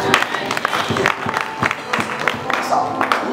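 A church seminar congregation clapping for Jesus, a dense rapid patter of many hands filling the hall, mixed with voices and cheering throughout.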